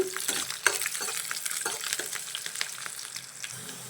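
Dried red chillies fry in hot oil for a tempering for semiya upma, with a close, steady sizzle broken by repeated scraping stir strokes of a spoon in the pan.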